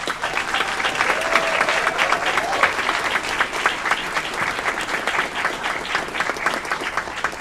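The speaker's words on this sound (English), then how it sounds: "Let's give him a round of applause." Loud, sustained audience applause fills a council chamber during a city meeting award presentation in Aurora, with dense steady clapping and a brief whistle near the start, no voices over it.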